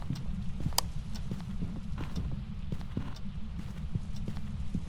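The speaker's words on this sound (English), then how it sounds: "The footsteps, yeah, like you only hear them if you have line of sight with the ghost" Ghost footsteps in the horror video game Phasmophobia, a quiet series of irregular knocking steps over a steady low rumble, fairly faint and without talk.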